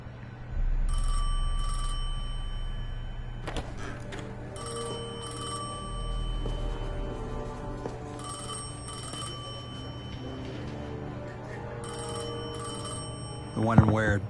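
Old-style telephone bell ringing in the video game Destiny 2, repeated double rings in a steady pattern over a low ambient hum, with a heavier thud partway through and a brief voice near the end.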